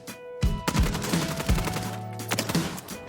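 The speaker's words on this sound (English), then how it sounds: "I will aim at the stomach and let the gun fire from the booth at the first target." Gunfire at firing range targets in Warzone: a quick burst of sharp, punchy shots in a steady rhythm, loud and close, with metallic mechanical clatter between rounds.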